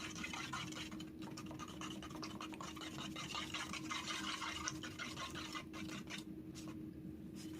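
A popsicle stick stirs acrylic paint and soapy water in a cup, a soft steady scraping and sloshing with small clicks, close and continuous without talk.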